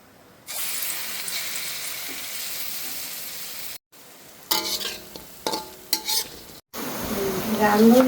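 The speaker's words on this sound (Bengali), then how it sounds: "এদিকে আমি ডালের বড়াগুলো ভেজে নিচ্ছি" Lentil fritters deep frying in oil, a loud continuous sizzle broken by short gaps and stirring clatter, then a fresh surge of bubbling frying.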